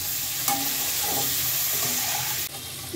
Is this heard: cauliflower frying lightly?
yes